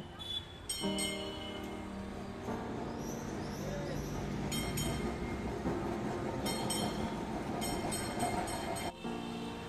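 A street tram rumbles past on College Street in Kolkata, with steady rail noise, intermittent clattering bursts and wheel squeals over busy traffic, while a voice talks at times in the background.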